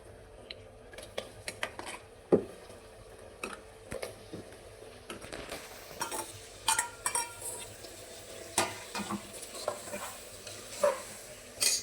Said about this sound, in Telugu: ఇప్పుడైతే మనం లివర్ అనేది దీంట్లో వేసేసుకోవాలన్నమాట.